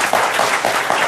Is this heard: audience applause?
yes